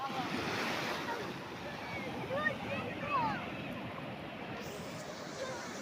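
Sea waves wash up on the beach by the Uvari Suyambulinga Swamy temple, a continuous rushing surf with gentle swells and wind buffeting, while voices chatter faintly alongside.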